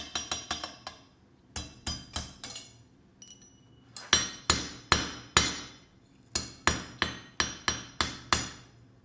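A blacksmith hammers a small forged rune pendant on an anvil, sharp metallic strikes in quick bursts of four to six blows separated by short pauses, close and loud with ringing decay and no talking.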